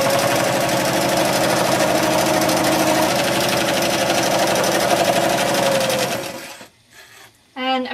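A sewing machine runs a long, big straight stitch around paper journal covers. It whirs loudly and evenly for about six seconds, then stops, leaving faint handling sounds.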